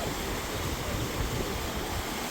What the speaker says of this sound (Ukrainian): Там річка є.